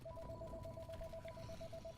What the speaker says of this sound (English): every phone has to ring in my house